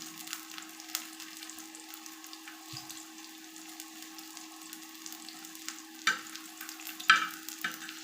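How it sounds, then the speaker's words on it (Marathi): Garlic frying in a pan for varan bhat, a quiet steady sizzle with a low hum and a few louder stirring clinks near the end, no talking. "लसूण पहिले वेगळं तळून घ्यायचे आहे लसूणाला जास्त जाळायचं नाही"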